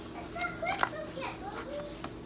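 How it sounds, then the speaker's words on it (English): Three kids play and holler indoors in a living room, a faint jumble of high young voices and squeals in the background over a low household hum. "The kids, all three of the kids are playing in the living room right now"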